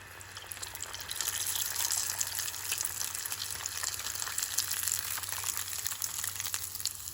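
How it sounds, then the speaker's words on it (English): Sri Lankan lentil fritters (parippu vade) on their second fry in hot oil, a steady, close bed of crackling sizzle and bubbling that holds fairly constant throughout. "When you fry for the second time, it will give you more crispiness."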